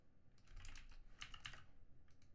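Quiet computer keyboard typing in short clustered bursts of clicks, close but faint, with small pauses between groups of keystrokes.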